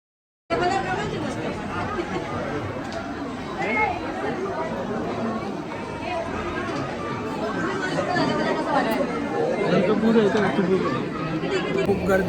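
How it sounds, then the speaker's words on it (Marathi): Dense crowd chatter and babble from many voices at Titwala Ganpati temple, where devotees queue for darshan, including the VIP line; the hubbub fills the clip continuously and swells slightly toward the end. "खूप गर्दी आहे इथे."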